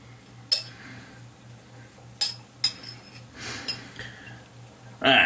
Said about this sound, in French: on y va avec une bonne cuillerée de jalapenos